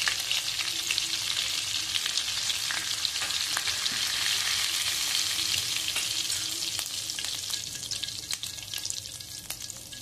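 Cumin seeds frying in butter in a pan for an egg masala gravy, a steady close sizzle with scattered crackles and pops, running evenly throughout with no talking.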